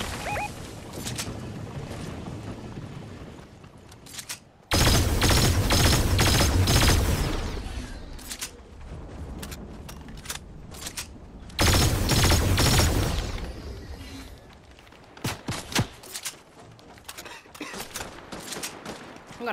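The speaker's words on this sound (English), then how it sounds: "Gunshots are coming from here." Gunfire in the video game Fortnite: two long loud bursts of rapid automatic shots, separated and followed by scattered single shots and sharp cracks at lower level.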